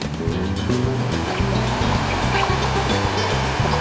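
A passenger train travelling from Kolkata toward Jammu, nearing the Tawi river, rolls along at speed, giving a loud, steady rumble broken by regular low thuds from the wheels and track.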